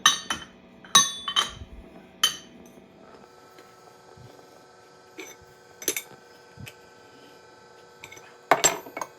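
Metal tools clink and clatter on a workbench while a small try square is picked out during work on a hit-and-miss engine base, giving several bright, close, scattered taps with quiet gaps between them.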